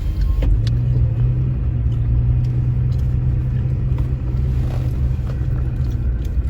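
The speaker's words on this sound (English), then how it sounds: "Looks like they're backing the bus up, getting the Jeep off." A motorhome bus backing up to unload a red Jeep, a deep, steady engine rumble close by throughout, with no talking.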